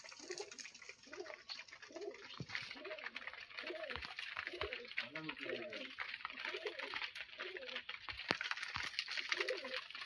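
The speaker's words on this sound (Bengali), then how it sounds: "তো উপরেও কবুতর আছে" Low, repeated pigeon coos roll on through the whole stretch beneath a steady wash of hiss and background noise.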